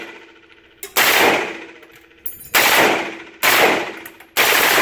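Bursts of full-auto gunfire from a .308 rifle, three sustained volleys about a second long each with sharp onsets and ringing tails, loud and close at an outdoor range with no talk over them.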